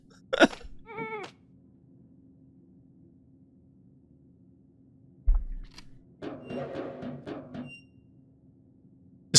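Sheep bleat in the Phobies video game, a few wavering cries at first, then after a quiet stretch a burst of several quick bleats in a row, moderately loud over a low steady hum.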